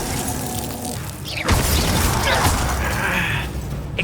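A Glacius ice spell going off in Hogwarts Legacy combat, with a sudden crackling, shattering burst about a third of the way in that rings on amid clattering battle noise, and a short bright hiss near the end.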